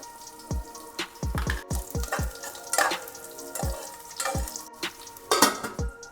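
Whole spices frying in a pan for Hyderabadi mutton pulao, with bursts of crackling sizzle and several sharp metallic knocks as a spoon stirs, close and without speech.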